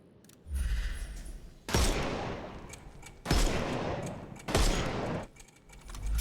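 Gunfire in a Sherlock Holmes video game as enemies' armor is shot off: loud bursts of rapid shots arrive in several separate volleys, each lasting about a second, with quieter gaps between them.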